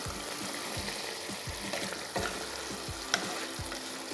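Chopped tomatoes and green chillies fry with shredded cabbage in a pan for a Bengali-style dish, a steady close sizzle broken by repeated stirring scrapes, with no talk.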